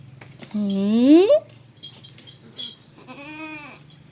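Goat bleating up close, two drawn-out wavering calls separated by a short pause, with people talking softly around it.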